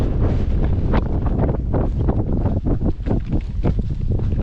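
Strong wind buffets the microphone continuously on a mountain hike in the Vosges, producing a loud rumbling roar with gusty surges and no voices.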